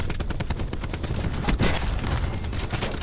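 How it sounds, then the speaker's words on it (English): Dense video-game gunfire from a strike team, rapid continuous bursts of overlapping shots at a steady, loud level with no talking. "Because my strike team's shooting him"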